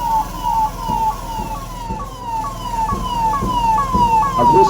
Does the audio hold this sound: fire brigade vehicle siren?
yes